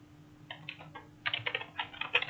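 Fingers type C program code on a computer keyboard in irregular bursts of close, crisp keystrokes, sparse at first and then denser and quicker, with no voices.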